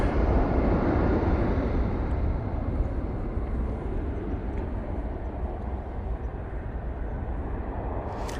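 A jet airliner departs Manchester Airport bound for Bilbao, giving a broad, continuous roar that stays loud and steady and then slowly eases, heard from a distance with no talk.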